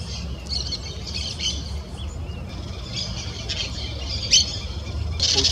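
Harsh, repeated squawks from a noisy parakeet ring out in a city park, loud and close in short bursts over a steady background rumble, with no talking.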